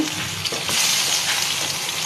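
Marinated eggplant slices frying in a pan with very little oil give a steady, close crackling sizzle, fairly loud and continuous for a couple of seconds with no voices.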